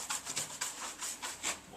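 Short, quick back-and-forth strokes of a paintbrush lay a thin scuff coat of paint onto a trailer, heard as soft, rhythmic close scrubbing.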